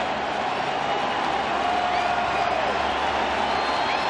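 A ballpark crowd cheers through a 2014 World Series game between the San Francisco Giants and the Kansas City Royals, a constant roaring wall of sound that stays loud from start to finish.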